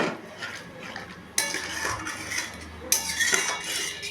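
A spoon scrapes and clanks against a pot while soybean curry is stirred after water is added, giving a busy run of metallic clatters with two louder bursts.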